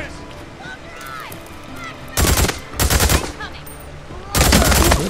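Loud bursts of automatic gunfire in the open-world game Days Gone, three sharp volleys separated by quieter gaps, with someone talking over the quieter stretches between them.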